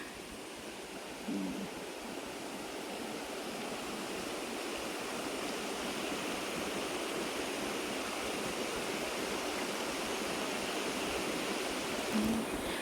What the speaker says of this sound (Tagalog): Tapos, ito lang po yung ilog.